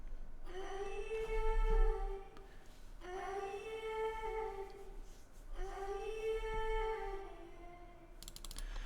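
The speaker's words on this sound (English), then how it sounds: "I pitch shifted it a whole octave up" A sung vocal chop, pitched an octave up and drenched in reverb, repeats three times as long sustained notes with a washy tail, faint against soft clicking like computer keys.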